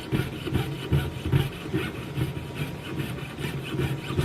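A hand saw, its blade lubricated, cuts through a silver ingot in steady back-and-forth strokes, each rasping pass loud and close with a gritty metallic scrape in an even rhythm.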